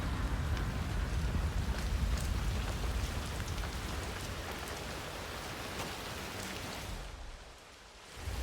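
Steady rain pattering on surfaces in a street scene from the video game Hitman 3, a dense continuous hiss with low rumble that fades briefly near the end.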